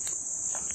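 A cricket gives off a steady, high, continuous chirring trill that stays loud and unbroken, with faint scuffing underneath.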